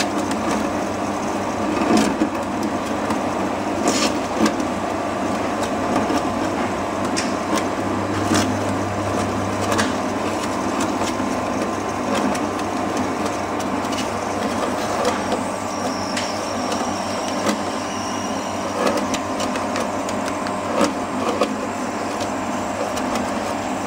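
A flake ice machine runs continuously, a loud steady mechanical hum and whir broken by scattered irregular clicks and knocks, with no talk over it.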